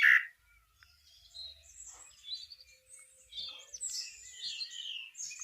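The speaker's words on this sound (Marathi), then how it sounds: "किती छान अलग अलग वेगवेगळे पक्षी आहेत." Various birds chirp and tweet at a park, producing high, bright calls in scattered bursts. A sharp call opens the sequence, then varied chirps come and go at moderate distance in a fairly quiet setting.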